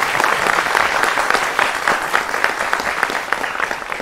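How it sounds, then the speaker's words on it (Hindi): Audience applause after a talk on the 1947 Instrument of Accession for Jammu and Kashmir, a dense, steady clapping from a crowd that holds loud and even for the full stretch, with no voices rising above it. "तालियां बजाओ।"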